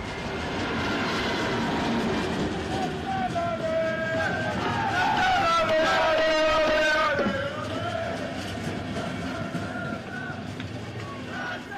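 A special train carrying at least 750 rowdy Kaiserslautern football fans pulls into a station, a steady rumbling roar with a brief squeal of brakes midway, under a background babble of distant voices.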